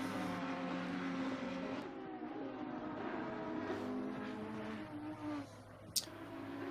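Race cars roar around the Nurburgring GP circuit in Assetto Corsa Competizione, with a sustained, loud engine drone, shifting pitch as cars accelerate and pass, and a brief sharp click near the end.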